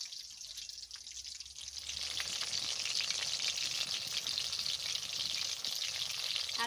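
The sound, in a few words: chicken frying with garlic and spices on low heat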